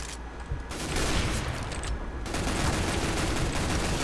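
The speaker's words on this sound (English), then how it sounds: "Just shoot him through a wall." Rapid bursts of gunfire in CS:GO shooting through a wall, loud and continuous with dense overlapping shots and no talking.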